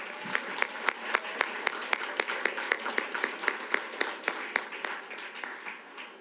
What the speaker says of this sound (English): So another round of applause for all of our distinguished schools.